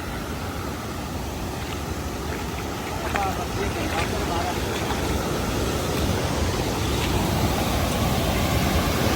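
Water pours over a small waterfall in a village, a steady broadband rush filling the background while people talk over it.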